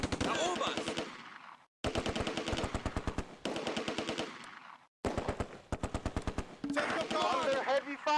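Machine gun fire in the Close Combat: A Bridge Too Far wargame, loud rapid bursts of automatic gunfire broken by brief silences, with more shots layered in toward the end.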